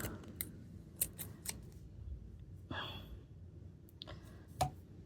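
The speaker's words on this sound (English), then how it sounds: "I'm using some very large scissors because that's what I had nearby." Very large scissors cut crochet yarn with a few sharp, quiet snips close by, separated by soft breathing and rustling in a quiet room.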